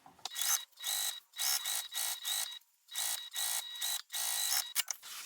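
A sewing machine stitches backpack fabric along a long edge in several quick bursts separated by brief pauses, each run a steady, fairly loud mechanical whir with a faint high whine.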